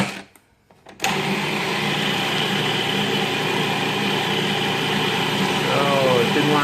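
A food processor blending oil-free basil pesto starts after a short quiet moment, then runs at a loud, steady whir that holds and rises slightly, with a person speaking faintly over the motor.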